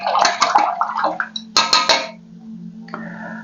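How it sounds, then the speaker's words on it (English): A paintbrush is swished and rinsed in a water container, making a few close bursts of splashing and sloshing with light clinks against the container, then quieter trickling. "Let me rinse my brush."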